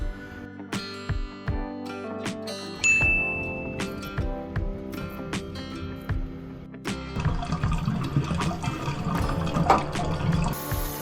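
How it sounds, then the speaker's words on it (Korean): Repeated squelching and sucking pumps from a plunger on a blocked bathroom floor drain, followed by gurgling water as the drain clears, with sharp thumps scattered throughout, close and unaccompanied by talk. "이렇게 펌프질 해주시면 이렇게 깔끔하게 뚫린 배수구를 볼 수 있어요"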